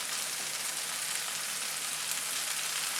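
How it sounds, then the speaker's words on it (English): Fish fries in a pan over a medium-high flame, giving a steady, even sizzle and crackle with no one speaking. "I will allow the fish to fry well on one side for about 2 to 3 minutes"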